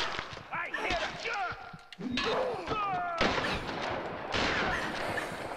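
Shotgun blasts in the video game Tomb Raider on hard difficulty: several sharp, loud gunshots amid game effects and a talking player, with a brief gap before more firing.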